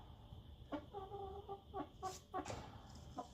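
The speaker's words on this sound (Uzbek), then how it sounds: "5 kilo tepasi xo'roz bo'ladigan jo'ja." Young rooster chicks of a large breed expected to top five kilos clucking nearby in short, repeated bursts, several calls overlapping against quiet farmyard background.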